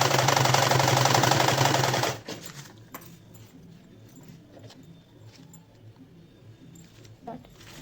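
A sewing machine runs in a loud, continuous stitching whir as an elastic strip is folded and sewn into stretchy knit fabric, then cuts off abruptly, leaving faint clicks and light handling noises.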